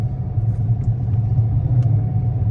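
Low, steady rumble from a Dodge Charger R/T engine and exhaust with 392 shorty headers while cruising, a continuous droning tone close up with no talk.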